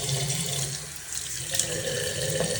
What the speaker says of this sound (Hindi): इस वाले जूते पे मैं ये SPF छिड़क देती हूँ।